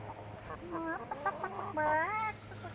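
Crèvecoeur chickens cluck and chatter close by in short, rising calls over a low steady background hum.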